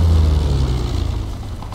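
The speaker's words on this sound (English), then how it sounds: "Oh crap, jet." Jet aircraft in the Vietnam-era game Project Reality roaring close overhead, a loud low rumbling whoosh that slowly fades over under two seconds.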